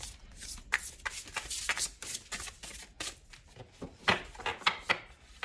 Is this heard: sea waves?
no